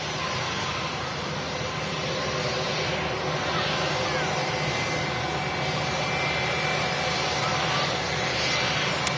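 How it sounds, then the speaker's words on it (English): Airliner rolling on the runway at Manchester Airport: a steady, broad jet engine roar from a distance, continuous and unchanging throughout, with faint wind noise. "TUI SmartLinks just vacated the runway in front of us here."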